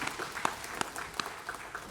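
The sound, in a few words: applause in a church service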